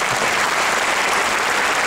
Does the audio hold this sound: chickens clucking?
no